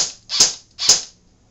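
An airsoft AK rifle fires two separate semi-automatic shots, each a sharp mechanical snap about half a second apart, close and loud against a quiet background.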